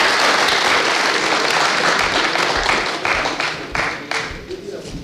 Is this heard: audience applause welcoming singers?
yes